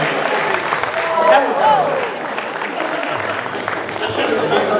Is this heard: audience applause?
yes